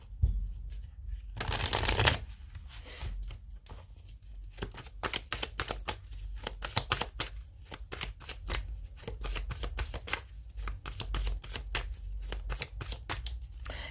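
Tarot cards handled and laid out, a brief burst of riffling shuffle followed by many quick crisp slaps and flicks of cards, close and dry.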